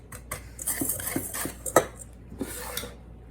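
Dry ingredients for Portuguese chicken and potatoes being stirred in a bowl: close, busy scraping and clinking of a utensil against the dish, with quick taps and no talking.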